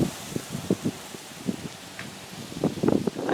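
Wind blowing outdoors in a garden as the weather turns before rain: soft, continuous rushing gusts with intermittent buffeting bumps against the microphone, fairly quiet and without talk.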